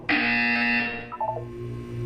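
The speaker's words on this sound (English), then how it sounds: "When you hear the buzzer, look up at the ceiling." A loud electronic buzzer from the Portal 2 video game sounds sharply for about a second, then fades into a few softer tones and a low background hum.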